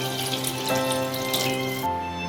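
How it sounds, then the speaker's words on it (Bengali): Water pours steadily into a potato and yogurt curry on the stove, a close, continuous splashing stream that cuts off near the end, with no talk. "এরপর দিয়ে দিচ্ছি পরিমাণ মতন জল।"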